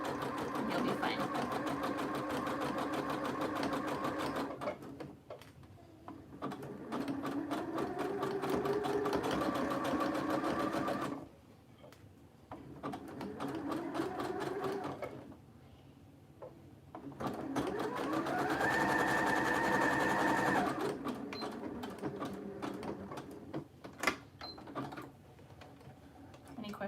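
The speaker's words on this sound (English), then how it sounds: "go slowly, you don't have to sew this quickly. Just go slowly and see where your needle's gonna end up" A sewing machine stitching a fabric face mask runs in long steady whirring stretches with short pauses between them. It sounds close and fairly loud.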